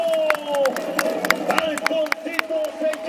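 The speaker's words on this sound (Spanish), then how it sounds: "¡El aplauso que se escuche bonito!" A crowd at a jaripeo claps and cheers in a steady patter of applause, while a loud announcer's voice and a melodic whistle-like tone carry over it.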